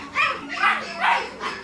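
A small dog gives three quick, high-pitched yaps, evenly spaced and fairly close, with no talking over them.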